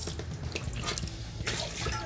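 About a cup of water is poured into a pot to be boiled, making a brief, faint splashing and trickling sound.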